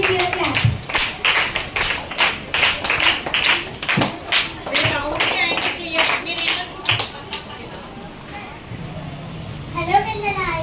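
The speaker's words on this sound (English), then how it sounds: "Please welcome them with your claps." Children at a 6th class school assembly clap to welcome a participant coming up for a Telugu story: brisk rhythmic clapping for about eight seconds, close and fairly loud, then fading as a young voice starts speaking.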